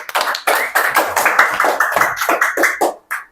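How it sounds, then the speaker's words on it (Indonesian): A small class group claps for a short burst of about three seconds. The claps are close and distinct, come from a handful of people, and fall in an uneven rhythm that stops briefly before one last clap. "Tepuk tangan untuk kelompok 3."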